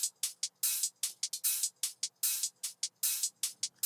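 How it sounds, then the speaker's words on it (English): A Ghosthack dubstep hi-hat top loop plays alone, crisp closed hats ticking in a tight rhythm with longer open-hat washes landing on the offbeats, bright and evenly repeated. "I have a Ghosthack hat top loop. This is designed for dubstep"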